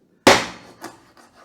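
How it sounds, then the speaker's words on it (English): A freshly sharpened knife chops the tail off a whole fish for pla raad prik: one sharp, loud crack of the blade through the tail, followed by a few fainter taps and knocks on the cutting surface. "let's just take off the tail with my freshly sharpened knife"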